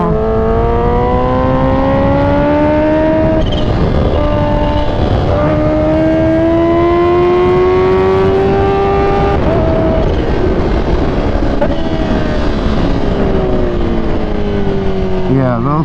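Kawasaki Ninja H2 supercharged motorcycle ridden hard around a MotoGP race track, engine droning loud and steady as it rises and falls through the revs, with a rider talking over it; no distinct pops or bangs stand out.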